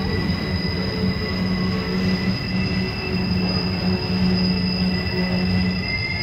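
A train rumbles past close by on the Horseshoe Curve, wheels squealing in long, high-pitched screeches over the steady roar of rail cars.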